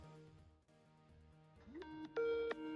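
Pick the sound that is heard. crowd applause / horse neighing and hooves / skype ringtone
skype ringtone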